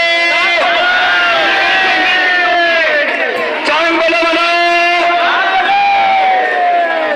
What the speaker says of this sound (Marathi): गर्दीची वेळ आहे